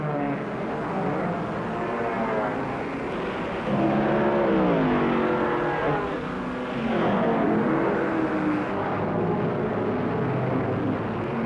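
Touring cars race at the 1.5-mile Lakeside circuit in a 1967 championship, with engines droning steadily and swelling into loud passes around the middle and later part, a continuous close roar.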